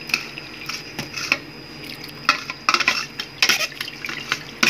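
Mozzarella cheese curd being rinsed in cold water to wash out sourness, with irregular splashing, dripping and clinking against a bowl, close and moderately loud, no talk.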